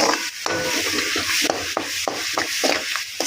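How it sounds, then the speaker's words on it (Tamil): Curry leaf pickle ingredients being sautéed in oil with urad dal, chana dal, dried chillies and garlic; a close, steady sizzle with rhythmic scraping stirs of a spoon against the pan. "நல்லா எண்ணெய் இது நல்லா வதக்கணும்"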